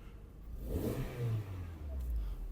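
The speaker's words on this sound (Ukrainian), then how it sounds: "Давайте запустимо двигун. Двигун запускається чудово." A 2010 Skoda Octavia's engine turns over and catches, settling into a steady low rumble that continues throughout at moderate volume.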